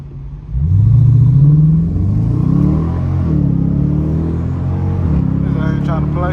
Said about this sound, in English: I'm gonna let the window down so y'all can hear that shit. That ain't no damn scat. That's an RT.